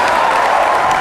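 Church congregation applauding and cheering together, a dense, steady wash of clapping and raised voices that fills the space without a break.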